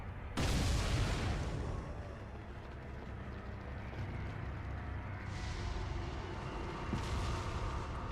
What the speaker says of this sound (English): It's like the explosion's near enough you, and then you, like, your character goes and braces for it.